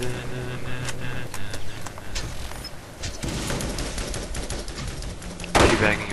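Gunfire in the video game Borderlands: repeated bursts of shots and rapid automatic fire at close range, with a louder blast near the end and game sounds mixed in.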